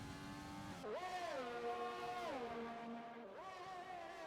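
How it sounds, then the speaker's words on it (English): Racing car engines whine in a racing video game at the Canada Grand Prix, a high tonal drone that drops and climbs as the cars shift and accelerate, steady and fairly loud throughout. "Just love the sound of the engines"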